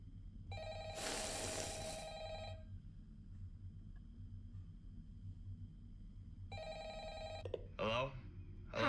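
A telephone rings in two bursts of electronic trilling separated by a long pause, over a low steady hum, with a brief voice-like sound near the end.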